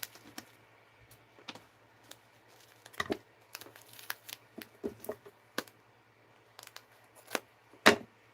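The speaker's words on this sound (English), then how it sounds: "Let me snip this." Scissors snip tape off a fabric package in scattered, faint crinkling cuts and rustles, some sharper snaps standing out against a quiet background hum.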